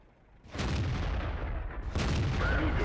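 SU-101 tank destroyer cannon fire in World of Tanks: two heavy booming shots, the second about 1.4 seconds after the first, each with a long rumbling tail under a loud game background.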